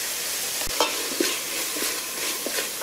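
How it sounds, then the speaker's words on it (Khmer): Khmer curry paste is stir-fried with coconut milk for a chicken curry soup, giving a steady close sizzle broken by a few soft stirring scrapes, with no talk. "យើងឆាគ្រឿងជាមួយទឹកដូង"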